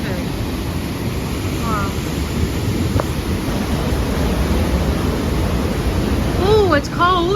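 Powerful waterfall thundering through a Swiss gorge, a loud, constant roar of rushing water with wind buffeting the microphone; a person briefly exclaims over it and birds chirp faintly near the end.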